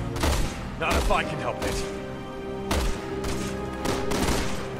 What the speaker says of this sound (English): I'm literally watching Leon shoot!